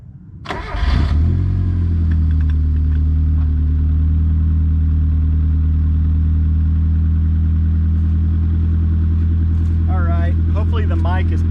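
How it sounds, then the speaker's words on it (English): A Mazda 323 car engine starts with a sharp burst, then settles into a steady, loud low rumble that holds throughout; faint voices are heard near the end. "I'll put this on with the engine running and let you hear how it sounds"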